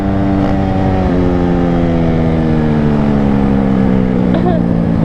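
A Yamaha YZ450 dirt bike engine running loud and near, with a continuous droning buzz whose pitch eases down slightly and then holds, while a voice is faintly present under it.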